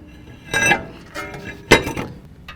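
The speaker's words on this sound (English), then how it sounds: "Now we can reinstall our rotor." A brake rotor being slid back onto the hub of a 2015-17 Ford F-150 4WD, heard as two bright metallic clinks and clanks with brief scraping between them, close by and with no talking.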